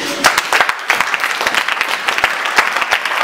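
Church congregation at a Sunday worship service applauding to acclaim Jesus, dense rapid clapping from many hands filling the space, loud and continuous with a few sharper individual claps standing out.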